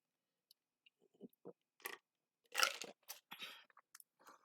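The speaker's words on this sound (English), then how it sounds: "Let me take a sip of my water" Several short, close slurping and swallowing sounds of sipping water, with small clicks and a gulp, scattered unevenly across a quiet background.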